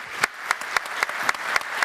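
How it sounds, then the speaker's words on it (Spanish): Audience applause at the close of a technical conference session, with a handful of sharp individual claps standing out at a steady pace over a soft, thin bed of clapping. "Les damos un aplauso, ¿les parece?"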